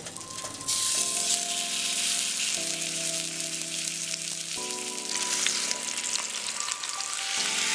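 Steaks frying in a cast iron skillet, a loud, dense sizzle that starts abruptly and holds steady, with a steady tonal hum running underneath.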